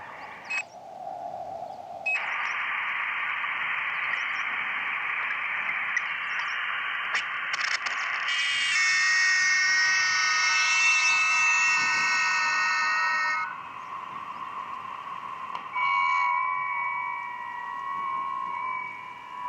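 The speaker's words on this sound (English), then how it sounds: "There's legit FT8 sounds, so we're good there." Steady FT8 digital amateur radio tones, several narrow whistling carriers holding pitch together over hiss, with bursts of data tones shifting in and out.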